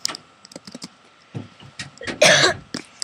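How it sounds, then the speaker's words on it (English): Several short coughs from a child indoors, scattered over a few seconds with a louder burst near the end, mixed with faint tapping sounds. "And don't cough in my face."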